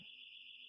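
A steady, high electronic alarm tone sounds continuously inside a house, even and unbroken, fairly faint against the room.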